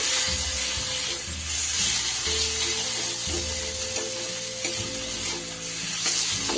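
Chopped tomato frying in a pan of oil for a bhola fish curry, a steady close sizzle with stirring scrapes and soft bumps running throughout, no voices.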